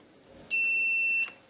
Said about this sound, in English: don't know if you heard the beep, but I'll just bring it closer.